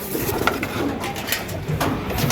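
A racing pigeon back at the loft after a sprint race, soft cooing amid rustling and wing flutters, close by, with a steady background noise.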